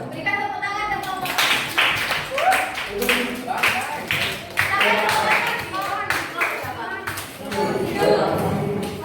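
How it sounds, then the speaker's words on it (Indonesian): A small indoor audience claps for a group, a scattered run of hand claps in uneven rhythm mixed with people talking and children's voices nearby. "Yuk, berikan tepuk tangan dan kelompok."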